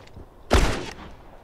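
A single loud gunshot rings out in The Last of Us multiplayer during a snowstorm, a sharp, close blast halfway through with a short decaying tail and quiet ambience around it.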